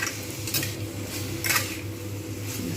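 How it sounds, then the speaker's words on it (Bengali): Metal lid set onto a pan of frying kundru (ivy gourd) on low heat, a couple of clear clanks and rattles of cookware over a soft steady background hum. "আমি আঁচটা কমিয়ে ঢাকনা দিয়ে দেবো"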